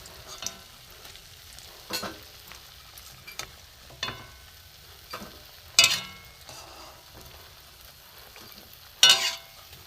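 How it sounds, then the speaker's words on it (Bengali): Pieces of bread deep fry in oil in a small kadai, a soft continuous bubbling sizzle broken by several sharp louder bursts as pieces are moved or added, close and unaccompanied by talk. "এইগুলো লাল করে সব ভেজে নেব, সব কটা।"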